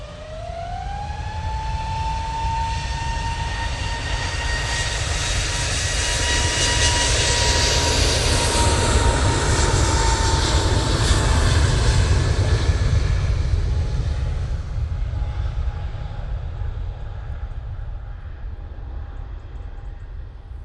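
EasyJet jet airliner at Manchester Airport, engines spooling up with a rising whine that settles into a steady tone over a loud, building roar, peaking midway and then easing slightly.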